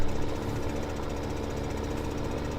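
A Case tractor engine idles in Farming Simulator 2015, a dense, steady, loud diesel throb with a fast knocking pulse that runs unbroken throughout, with no voices.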